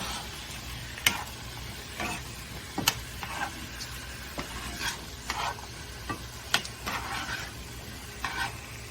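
Seasoned sweet potato stirred in a pan with black pepper and pink Himalayan salt: quiet scraping strokes and light clinks at irregular intervals over a faint sizzle, close by and with no talking.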